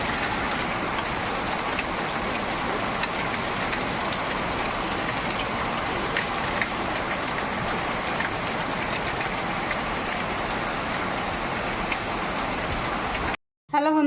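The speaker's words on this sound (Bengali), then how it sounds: "দেখো বন্ধুরা কি বৃষ্টি, এখন এই যে বৃষ্টি পড়ছে" Steady evening rain falling continuously and fairly loud, with a dense even hiss of drops on surfaces lasting throughout, cutting off briefly near the end.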